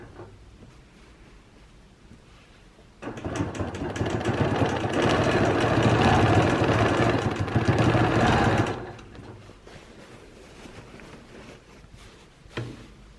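A sewing machine runs steadily for about six seconds as it quilts wavy lines on a quilt with rulers, a loud close whirring hum that starts and stops abruptly against a quiet room, followed by a single small knock.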